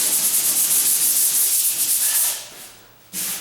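A door panel being sanded by hand, a loud continuous scratchy rubbing in steady strokes that stops briefly before one final short stroke.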